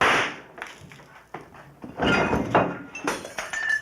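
Glass breaking during a stunt on the set of a 1985 zombie film, heard as several crashes and clinks of shards hitting the floor in a scattered sequence at moderate volume.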